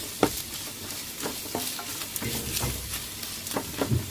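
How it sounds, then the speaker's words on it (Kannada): Onions frying in a pan for potato saagu, a loud close sizzle broken by repeated scraping stirs of a spatula. "ಈರುಳ್ಳಿ ಎಲ್ಲ ಒಂದು ಸ್ವಲ್ಪ ಕೆಂಪು ಫ್ರೈ ಮಾಡ್ಕೊಂಡ್ಬಿಟ್ಟು ಒಂದು 3-4 ನಿಮಿಷ ಫ್ರೈ ಮಾಡ್ಕೋಬೇಕು."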